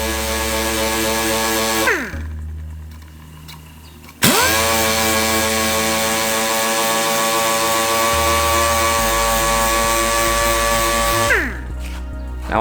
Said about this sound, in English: Now I'm using just the edge of the sander and I'm rolling it back and forth.